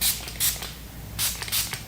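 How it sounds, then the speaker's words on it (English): Color Wow Dream Coat hair spray hisses onto hair in four short, close bursts, two early and two later, with brief quiet gaps between. "I'm just gonna spray it on each side heavily"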